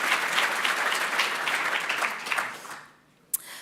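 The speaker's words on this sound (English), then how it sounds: "another big round of applause for Crystal's mum" An audience at a literary awards ceremony gives a round of steady applause that fades out near the end, followed by a single sharp clap.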